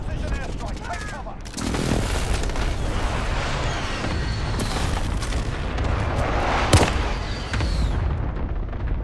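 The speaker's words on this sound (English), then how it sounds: "Enemy precision airstrike. Take cover." Heavy precision airstrike explosions in Call of Duty: Modern Warfare, dense booming blasts and gunfire-like crackle rolling continuously for several seconds over a loud battlefield din, with one sharp near blast late on.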